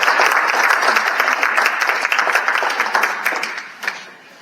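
A room full of people at a conservation talk applauding steadily, dense overlapping claps that hold strong and then taper off toward the end.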